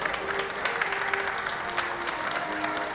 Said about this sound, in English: Let's give one more round of applause to our underclassmen homecoming court